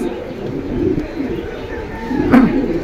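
Pigeons coo at the pigeon stalls of Jinjira Bazar market in Keraniganj. Low cooing sounds up close under a busy background hum, and a voice speaks briefly.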